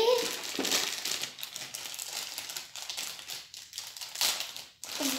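Close crinkling and rustling of packaging as a set of felt-tip markers from a spray art studio kit is opened, continuous crackles with a voice speaking at the start and end.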